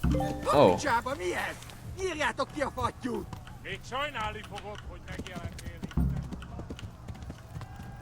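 Horse hooves canter in the medieval game Kingdom Come: Deliverance, a steady rhythmic clip-clop running throughout beneath excited talk and game sounds.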